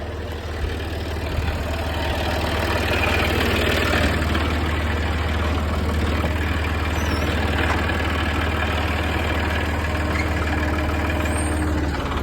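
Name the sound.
tractor engine running while plowing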